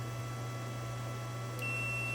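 A multimeter in continuity mode gives a thin, steady electronic beep while its probes touch pins on an amplifier circuit board. The tone starts late and holds to the end, faint over a low mains hum.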